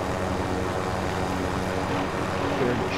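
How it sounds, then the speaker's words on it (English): A steady, loud whirring helicopter engine drone in Call of Duty: Warzone, with a throbbing rotor-like texture, fills the whole stretch without letup. "That's my helicopter."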